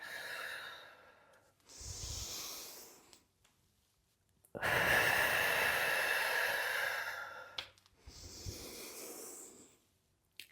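Breathing during a yoga workout, three audible breaths in and out with a long, loud, airy exhale in the middle and softer breaths on either side, close and clear with no talk.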